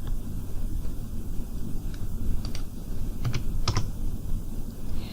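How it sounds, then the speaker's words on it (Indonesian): Several sharp, separate clicks from keys being pressed on a computer keyboard, including the F4 key, while working in the ECOUNT stock-management software, heard close over a constant low background hum. "Anda dapat klik pada kolom harga dan tekan tombol F4 di keyboard Anda"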